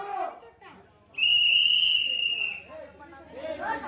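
A referee's whistle at a village Pongal games contest gives one long, steady, shrill blast lasting over a second, loud and near, with voices chattering in the crowd before and after it.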